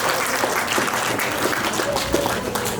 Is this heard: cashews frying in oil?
no